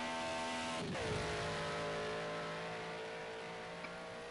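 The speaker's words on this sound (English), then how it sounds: "It's an incredible shot of the car going just screaming down the hill." A Group A race car screams down a hill, a loud, sustained engine howl with a sharp pass near the start, then a steady roar holding through to the end with no talk.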